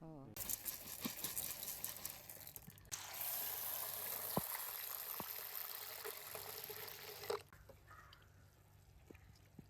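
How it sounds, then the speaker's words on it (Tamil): Soaked urad dal being washed under running water, a steady close rush of pouring and sloshing for several seconds that then stops, with a voice talking over it. "ஊற வச்சு இப்போ கழுவி கொண்டிருக்காவு"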